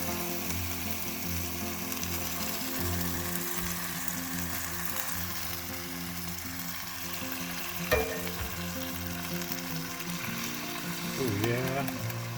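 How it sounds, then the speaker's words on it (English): Canned beans and diced tomatoes with their juice sizzle and fry in a pan during van cooking, a steady crackling hiss with a couple of clanking stirs near the end. "I'm going to go ahead and add my beans and my diced tomatoes"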